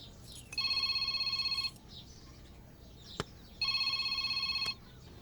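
A telephone rings in two bursts of about a second each, separated by a short pause, with a bright warbling electronic trill heard close. A sharp click falls between the rings, and there is no talk.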